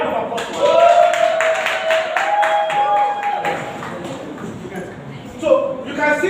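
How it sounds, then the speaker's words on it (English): A classroom audience gives a brisk round of clapping for a student during a design-thinking lecture, fading into murmurs and shuffling; a voice talks over the clapping. "A round of applause."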